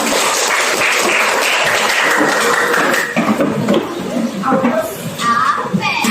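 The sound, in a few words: applause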